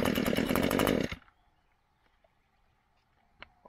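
An Echo GT200R string trimmer engine sputters briefly on a pull-start attempt, a loud raspy burst lasting about a second before cutting out to near silence and a faint knock.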